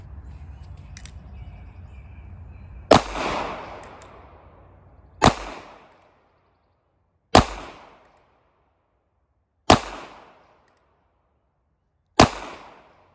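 Five sharp gunshots from a NAA Mini 22 Magnum mini revolver fired at a target, each crack loud and brief with a short decaying echo, spaced about two to three seconds apart after a stretch of quiet background noise.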